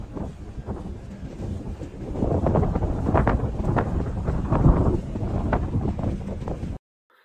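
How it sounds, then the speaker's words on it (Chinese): Strong gusting wind of force six to seven buffets the microphone on an exposed mountain ridge, a loud, steady roar that swells midway and then cuts off abruptly. "六到七级的大风，风口仿佛能把人刮走。"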